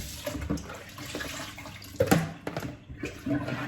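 Tap water runs steadily over raw beef being washed in a home kitchen, a close, continuous splashing hiss with a few louder gushes and clatters as the meat is handled.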